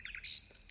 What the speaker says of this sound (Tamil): ஒரு குருவி ஒன்று கத்திக்கொண்டே இருந்துச்சு, பூக்குடிச்சாங்குருவி மாதிரி ஒரு குருவி.